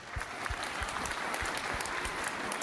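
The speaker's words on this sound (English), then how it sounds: "please give both warriors a round of applause" Spectators at a wheelchair boxing event in the UK applaud both fighters after the bout, a thick, even wash of crowd clapping with a few low thumps underneath.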